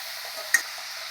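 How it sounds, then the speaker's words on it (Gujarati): Chapadi, a fried dough snack, sizzles in hot oil with a steady close hiss and one brief sharp pop midway. "હવે આપણી ચાપડી તળીને તૈયાર થઈ ગઈ છે બની"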